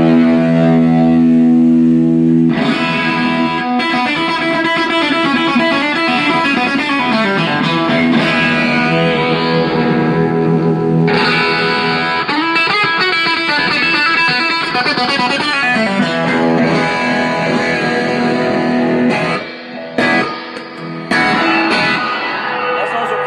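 Electric guitar played through effects, its bassy pickup blended with a brighter twangy one, giving a loud, distorted, reverb-heavy sound with sustained chords and runs that continue throughout, briefly breaking near the end.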